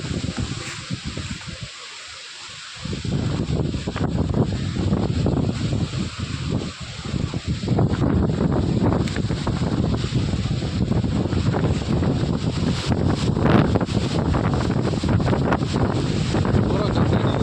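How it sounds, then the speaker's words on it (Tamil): Strong wind blows through mango trees on a farm, roaring and buffeting the microphone in continuous gusts, with a brief lull near the start and leaves rustling throughout. "பலமான காற்று."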